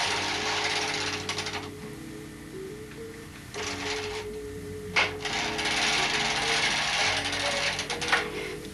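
A Bond knitting machine carriage runs across the needle bed for two rows of tuck stitch, giving a steady mechanical rattle and whir with clicks, rising and falling as it passes back and forth.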